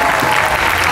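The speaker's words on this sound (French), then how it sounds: "Si, applaudissez, on applaudit tous." A crowd applauds during a fan convention panel in Paris, a brief, continuous wash of clapping from many people with no gaps.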